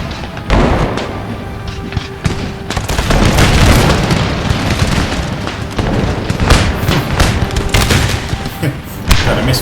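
Musket volleys in Empire: Total War crackle as a dense, loud fusillade of overlapping shots and booms, bursts clustering throughout with battle noise between them.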